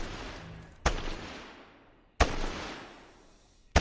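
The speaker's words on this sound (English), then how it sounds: "And then he starts shooting at the wall." Two loud gunshots from a hacker firing at a wall in the Fortnite video game, each a sharp crack followed by a long decaying tail, spaced about a second and a half apart, with the start of a third at the very end.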